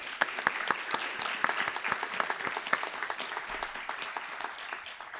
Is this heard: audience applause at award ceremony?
yes